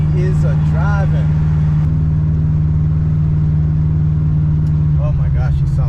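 A Box Chevy car driving, its engine holding a loud steady drone from inside the cabin with a slight shift near the end, while a person talks over it at the start and finish.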